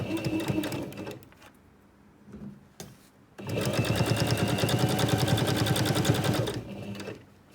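A home sewing machine runs a seam at a 10 mm allowance on a protective cover for an iPad mini, with short bursts and pauses of reversing at the start, then a steady loud continuous run before stopping.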